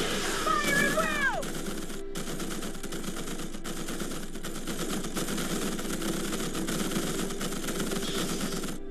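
Troopers' rifles in the strategy game Starship Troopers: Terran Command rattle in continuous rapid bursts of gunfire over a low engine hum, with a brief voice early on.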